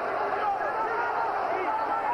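A boxing arena crowd roars steadily throughout at Felix Trinidad versus Hugo Pineda, a loud, continuous wash of cheering with no breaks.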